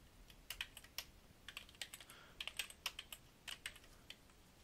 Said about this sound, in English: I'm going to type in div id equals